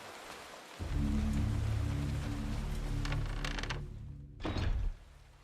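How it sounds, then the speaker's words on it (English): Steady rain in the Eternal Darkness: Sanity's Requiem video game, falling under a low mechanical rumble and a couple of heavy thunks, at moderate loudness. "Back to the rain."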